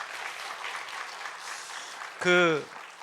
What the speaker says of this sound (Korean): 우리 아이들과 우리 수고했던 선생님께 우리 박수 한번 쳐주십시오